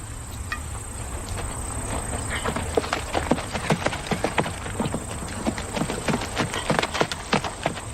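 Horse hooves clip-clop steadily at a walk in a Western film scene, the irregular hoof strikes growing louder over a constant chorus of crickets.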